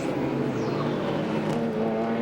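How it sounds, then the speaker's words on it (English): A Schnitzer BMW M3 GTR E46 race car with an inline-six engine drones loud and steady through the full stretch at the 12 Hours of Sebring. The engine note rises and falls slightly as it holds a sustained high-revving tone. "This car run by Schnitzer is one of the inline 6s, as you can tell by the engine note."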